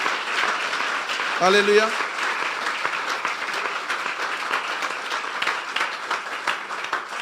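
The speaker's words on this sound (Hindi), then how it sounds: "फिर तालियां बजा दें यीशु के जलाल के लिए।" A church congregation at an Ambassadors of Christ Apostolic Church sermon claps in dense, sustained applause that fills the whole stretch, with one voice briefly calling out near the start.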